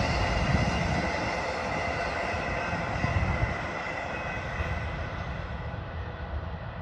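A southbound freight train pulling out of Harrisburg, Oregon, producing a steady, loud rumble and roar that holds for the whole stretch with no talking over it.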